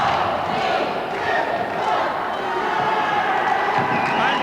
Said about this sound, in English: The clock is now on countdown and the crowd joining in.